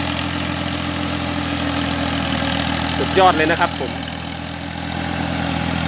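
A tractor engine idles steadily throughout a durian orchard, a low rumbling drone, with someone speaking briefly over it near the middle.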